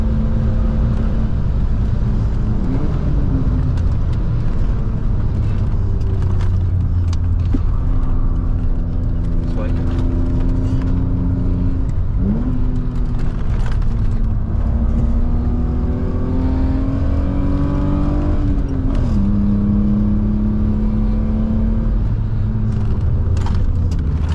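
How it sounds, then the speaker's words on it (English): A straight-six car engine hums steadily while driving, its pitch rising and falling with gear changes and revs, heard from inside with no talking. "let you enjoy the glorious straight six sound"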